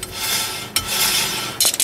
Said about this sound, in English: So that's just brake dragging.